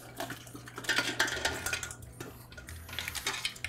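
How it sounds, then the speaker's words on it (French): Crab broth with shells is poured through a strainer into a cooking pot, giving liquid splashing mixed with clinks and scrapes of metal cookware, moderately close, with no talking. "On verse notre mélange pour récupérer seulement le bouillon et pas les carapaces."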